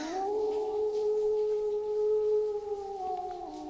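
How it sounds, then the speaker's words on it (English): A wolf howls at night in a video game: a single long, drawn-out tonal howl that holds a steady pitch and tails off at the end, clear and prominent over a quiet background without speech. "Suddenly, a chilling wolf's howl breaks the silence of the night."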